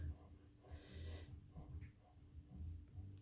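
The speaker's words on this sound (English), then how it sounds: "You can hear the dog panting." An old dog pants in quick, breathy bursts close by, a rough rhythmic huffing with a few snorting breaths, carrying on for several seconds at low volume.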